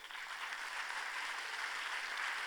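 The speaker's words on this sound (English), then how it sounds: "let's give all those passionate people an applaud and a big thank you" An audience at a conference plenary session on partnerships claps steadily, a dense even wash of applause from many hands, moderately distant and without voices.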